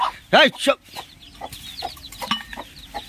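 A hen with newly hatched chicks clucks in short bursts close by, with other birds chirping and faint voices in the background.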